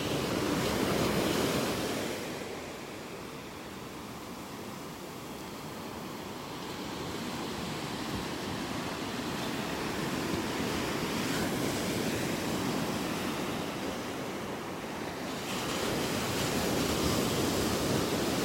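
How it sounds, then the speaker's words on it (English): Ocean waves wash and roll onto a beach in North Naples, Florida, a continuous rumbling surf that swells and fades, with some wind buffeting the microphone. "I love the sounds of those waves."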